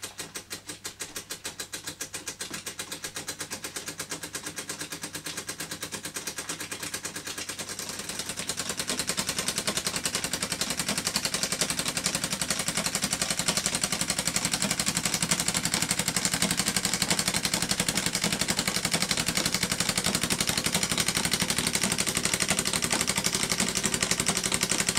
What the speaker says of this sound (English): It's a rather noisy engine.